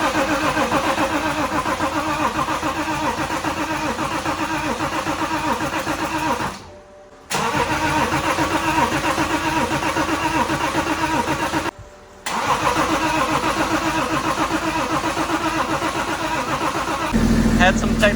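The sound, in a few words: BMW X5 diesel engine starting and running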